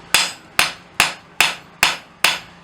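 A hammer strikes hot steel to chamfer the edge of a forged decorative heart, seven sharp ringing blows in an even rhythm, each ringing out briefly before the next.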